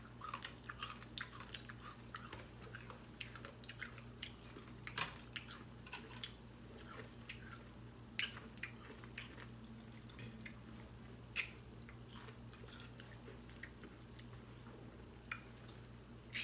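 Crunchy snack chewed up close during a spicy versus sweet challenge, a scatter of crisp, sharp bites and crunches over about sixteen seconds, fairly quiet and with no talking.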